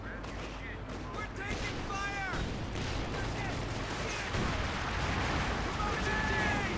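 Company of Heroes 2 battle with grenade explosions and rifle fire, a constant rumble of shots and blasts that swells near the end, heard beneath a commentator talking.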